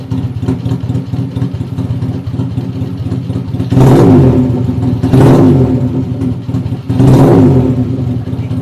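A two-cylinder Honda Revo 220cc motorcycle idles with a steady burble, then three loud throttle blips rise and fall in quick succession, each revving sharply before settling back to idle.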